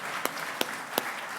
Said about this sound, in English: if we could all just give them a round of applause this evening